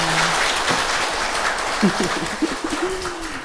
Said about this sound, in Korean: 여러분들 박수는요, 적당히 알아서 쳐주셔야 될 것 같습니다